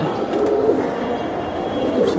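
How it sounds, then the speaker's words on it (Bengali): A female silver high-flyer pigeon gives a soft cooing call, close but fairly low, over a steady murmur of background noise, with no clear speech. "মাদি কবুতর।"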